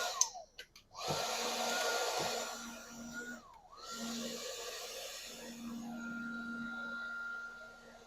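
Heat gun blowing on a heat-shrink solder seal connector, a steady airy roar with a low hum that cuts off briefly and starts again, close and fairly quiet.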